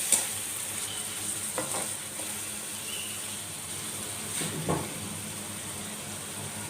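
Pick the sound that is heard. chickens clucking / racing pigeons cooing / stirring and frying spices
stirring and frying spices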